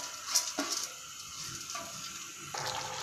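Running water splashes over rice being rinsed clean for a chole pulao, a close tap stream with bursts of sloshing and hiss that rise and fall across a few seconds, no voices.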